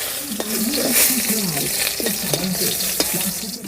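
A dried red chili and two bay leaves sizzle in hot oil in a pan, a steady close crackle and hiss with some stirring scrapes, while someone talks through it.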